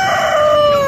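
A large rooster crows loudly and close at a market, one brief strained call with a slowly falling pitch.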